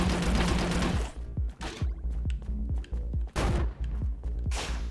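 Shotgun blasts in the video game Orbital Bullet, a dense volley followed by a string of sharp, punchy shots at irregular intervals over a steady electronic backing.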